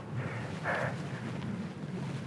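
Wind gusts across an open disc golf course, a steady broadband rush buffeting the microphone with a brief stronger gust, no voices.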